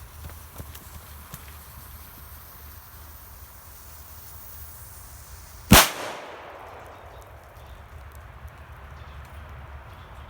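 One sharp, loud firecracker bang breaks a quiet outdoor background, then fades quickly as the low hum continues.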